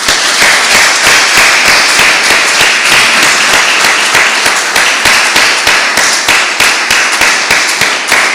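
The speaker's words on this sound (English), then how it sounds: "we can give another round of applause to Popović" Loud, sustained audience applause at an academic chemistry meeting in Rovinj, dense clapping filling the room steadily from start to finish.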